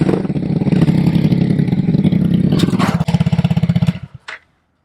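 A motorcycle engine runs loud and close with a steady idle-like throttle, then pulses unevenly as the bike is ridden up onto a carrier rack, ending with a couple of metallic clatters before it cuts off.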